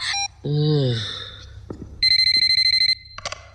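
A phone rings with a rapid electronic pulsing tone, a short burst of evenly spaced beeps that stops after about a second, preceded by a voice speaking and a few other short electronic sounds.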